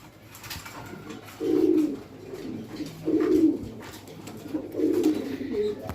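Black Beauty Homer pigeons, an Indian breed, coo in three clear, close bouts of soft low throaty calls, spaced a second or so apart, over quiet background chatter and faint room noise.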